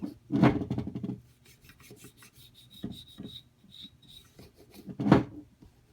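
Grease buildup being brushed off the parts of a disassembled SD9 VE pistol, heard as close, scratchy bristle scrubbing in short bursts with small taps and faint clicks between.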